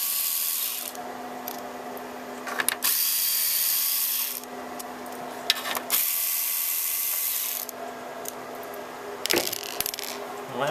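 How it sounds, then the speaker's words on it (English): Torx screwdriver working screws inside an HP DL380 G6 server chassis, giving close, continuous scraping and whirring bursts with several metallic clicks and clinks between them, no talk. "So again, with the Torx screwdriver, it helps if they are magnetic, since you kind of have to go inside of here."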